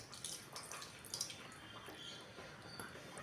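Tamarind water trickles and drips steadily into a cooking pot, a soft continuous pouring sound with faint splashes, close by and quiet.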